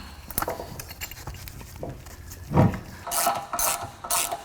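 A socket ratchet tightens a bolt by hand during a Honda Pilot rear suspension rebuild: quick bursts of clicking pawl ratchets sound close up, with some clunks of metal handling in between.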